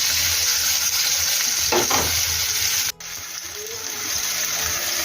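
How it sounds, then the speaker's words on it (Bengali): Stuffed white pumpkin (ash gourd) pieces frying in a pan, a loud, dense sizzle close by with a brief stirring knock, a momentary drop, then steady frying again. "এক এক পিঠ আমি পাঁচ মিনিট করে ভাজা করে নেব"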